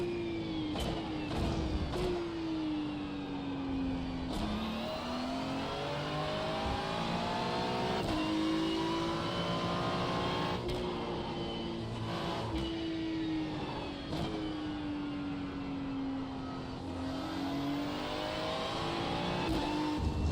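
Porsche race cars in a DTM racing video game roar through continuous engine drones whose pitch rises and falls with gear shifts and corners, loud and sustained with no talking.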